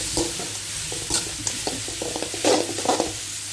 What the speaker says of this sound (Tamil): கொஞ்சமாக கல் உப்பு போட்டுக்கலாம் வெங்காயம் வதங்கிறதுக்காக